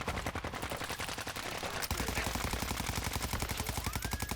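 Rapid automatic gunfire from weapons in Warzone 2 rattles in a fast, steady stream of sharp shots, loud and continuous, with a brief louder burst partway through.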